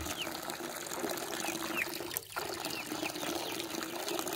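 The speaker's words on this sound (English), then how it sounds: "I'm just watering them." Water from a garden hose runs steadily onto plants outdoors, a soft continuous trickling and splashing at moderate distance, with faint bird chirps scattered over it.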